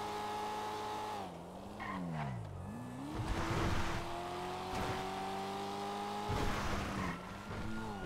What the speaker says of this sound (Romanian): Dar mașina asta mai mult se aude decât merge